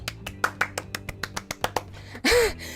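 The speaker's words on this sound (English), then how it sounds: "She begins clapping. Slow at first, then faster and more vigorously." Clapping sound effect from the Dream Daddy video game: a dozen sharp claps, slow at first and quickening, close and alone, ending in a burst of brighter game audio.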